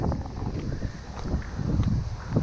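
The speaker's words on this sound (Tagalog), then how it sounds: "Lakas ng hangin sa taas." Strong wind roars across a mountain summit about 600 meters up in the Sierra Madre range, a steady, rough buffeting rush that batters the microphone with no speech.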